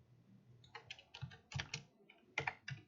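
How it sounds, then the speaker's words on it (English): Fingers type on a computer keyboard in short, quiet, irregular bursts of clicks, close by. "I can't type today."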